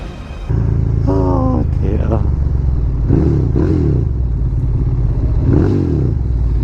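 Superbike engine roars continuously up close while riding, with rising revs, gear changes and wind rush, as a rider shouts and talks over it.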